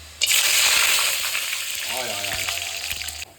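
Whole cloves, cinnamon, black and green cardamom and bay leaf drop into hot oil and burst into a loud, bright sizzle. The sizzle starts abruptly, then settles into a steady crackle with soft clinks of the pan before cutting off.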